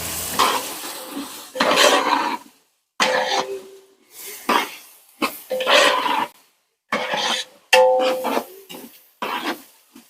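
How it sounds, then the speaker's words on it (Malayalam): A spoon scraping and clattering against a pan as cashew nuts fry in ghee, giving repeated loud bursts of stirring with short pauses between them and a faint sizzle underneath, close to the pan. "നന്നായിട്ടൊന്ന് ഇളക്കി കൊടുക്കാം."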